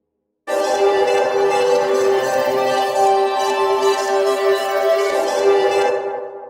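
A bright, sustained synth tone, reversed and pitched up 800 cents, with compressor, EQ, analog chorus, reverb and delay, rises in after a short silence and holds steady for several seconds before fading.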